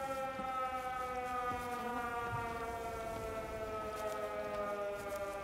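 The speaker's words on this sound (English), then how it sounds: "It's the air raid siren from the guy!" An air raid siren in the video game Everybody's Gone to the Rapture holds a steady, sustained wail, distant and droning under faint wind-like rumble.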